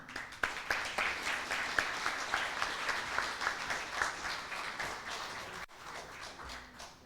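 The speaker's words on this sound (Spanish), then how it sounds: "Muchas gracias por los aplausos." Audience applause at a congress hall before a keynote lecture, fairly soft, moderately dense clapping with distinct individual claps, ending abruptly and leaving a faint lingering tail.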